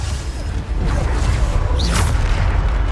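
Bombarda spell blast from Hogwarts Legacy combat: a deep booming burst with whooshing swishes and a bright zap, loud and continuous over a rumbling low end.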